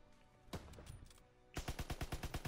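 Gunfire in a WWII video game: a couple of scattered shots early on, then a rapid burst of about eight evenly spaced loud reports rattling off in quick succession, close and dry.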